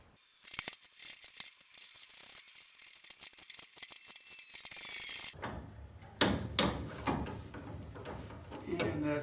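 A torque wrench ratchets a bolt down to 30 foot-pounds while a Datsun 510's front suspension is being rebuilt. The rapid metallic clicks come in bursts, growing louder and sharper near the end against a quiet garage.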